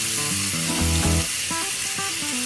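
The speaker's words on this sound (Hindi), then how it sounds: "और स्लो फ्लेम पर फ्राई करेंगे।" Chicken pieces fry in a little oil in a pan over a slow flame for tandoori chicken, giving a steady, close hiss of sizzling that runs throughout beneath prominent melodic background music.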